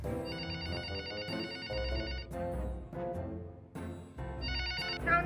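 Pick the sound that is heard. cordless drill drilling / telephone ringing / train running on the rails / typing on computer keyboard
telephone ringing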